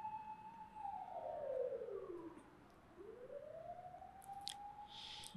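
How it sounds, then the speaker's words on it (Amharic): An ambulance siren wails past at moderate distance, its tone sliding down and then back up in one long sweep, heard alone without voices. "በስማም አምቡላንስ ይመላለሱ።"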